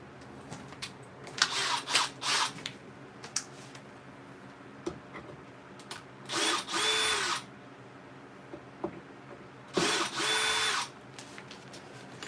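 Power drill driving screws into a kitchen ceiling during a remodel, several short bursts of whirring spaced apart with quiet gaps and small clicks and taps between them.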